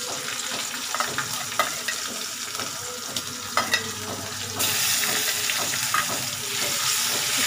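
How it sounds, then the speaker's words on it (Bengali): Bay leaf, torn dried red chilli and garlic fry in oil in a pan on an induction cooktop, a steady sizzle broken by occasional sharp scrapes and stirring knocks, growing louder midway. "একটু ভাজা ভাজা হোক"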